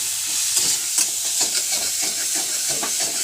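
Salted chicken pieces sizzle and hiss in a hot pan while being stirred, a steady bright frying crackle with soft scraping knocks from the stirring, close and continuous with no talking.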